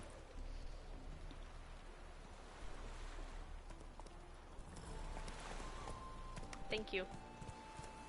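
Roach the horse's hooves clip-clop in The Witcher 3, a steady plodding rhythm over a rainy, surf-like ambient wash, with a brief spoken voice near the end.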